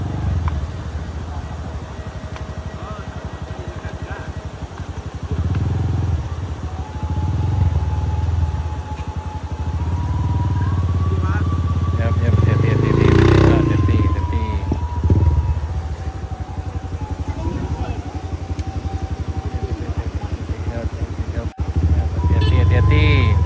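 Motorcycles ride past a landslide-damaged road in West Sumatra, their engines droning steadily with one passing louder and closer midway, while someone talks over the rumble.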